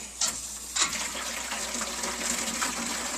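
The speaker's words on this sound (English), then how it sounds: "you can just place your bucket in the sink" Water gushes steadily from a sink tap into a bucket, a continuous splashing rush with a couple of brief knocks near the start.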